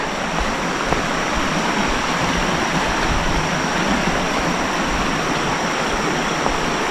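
Steady broad rush of a flowing river near Aw-Asen Falls in Sigay, Ilocos Sur, constant and fairly loud, with no breaks or voices.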